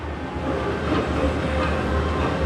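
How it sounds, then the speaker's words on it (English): Yellow tourist train at Busch Gardens rumbling steadily along its track, a continuous low rolling noise with faint clatter, moderately near and without speech. "And there's the yellow train."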